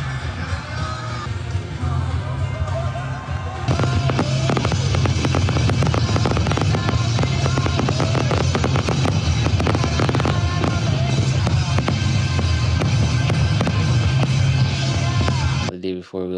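Big fireworks show at the beach in downtown Vancouver, with a dense barrage of crackling bursts and pops rising in intensity, voices yelling and cheering among the crowd, ending in a sudden drop.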